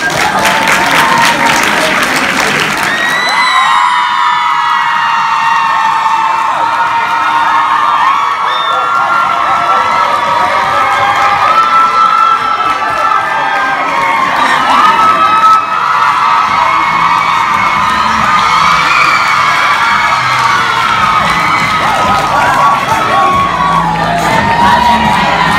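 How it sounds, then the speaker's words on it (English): Loud, sustained applause and cheering from a live audience at a creators' tour show in Cape Town, with whoops and excited shouts filling the room throughout. "Give us a round of applause."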